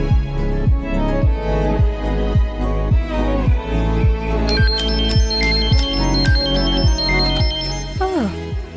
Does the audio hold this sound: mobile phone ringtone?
yes